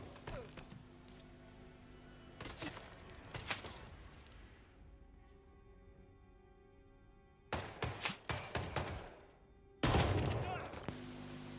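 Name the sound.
shotgun firing in a video game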